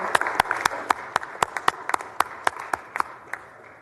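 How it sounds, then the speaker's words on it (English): Scattered applause fills the Texas Senate chamber, with a dozen or so sharp, distinct claps ringing out at an uneven pace over a softer background patter. "please join me in applause for our deaf community and for Ms. Bugan."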